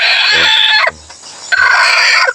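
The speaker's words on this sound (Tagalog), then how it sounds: "manok yun ni yung John Lloyd" A chicken on a chicken farm clucks and squawks loudly up close, two bursts of agitated calls separated by a short pause.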